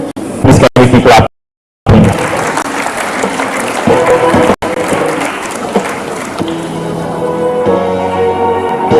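An audience claps steadily, with a brief gap of silence early on and some voices mixed into the sustained applause.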